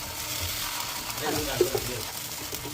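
Dosa batter sizzling in hot oil in a paniyaram pan, a dense continuous frying hiss with a couple of soft utensil taps, close and moderately loud, no talking.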